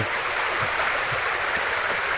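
Rain-swollen floodwater in Laos flowing toward the Xe Bang Fai river, a steady broadband rushing wash with no breaks, close and continuous.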